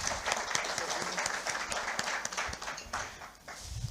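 A studio audience at an inaugural session breaks into a round of applause, dense overlapping hand claps filling the space steadily and fairly loud throughout, with no voices on top.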